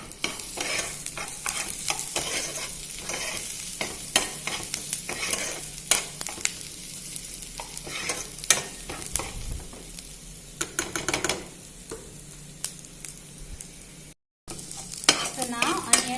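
Onions frying in a pan for palak paneer, with steady sizzling and repeated scraping, clinking stirs of a utensil against the pan at close range, alone without talk.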